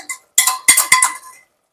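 Spoon clinking and scraping against a cooking pot as mutton is stirred with ground garam masala for a Punjabi-style curry: one short clink, then a dense run of metallic scrapes and knocks, close and fairly loud.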